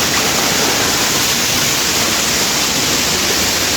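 Water rushes over rocks at Minamaluru waterfall in a dense, loud, unbroken roar that fills the whole moment without any voices.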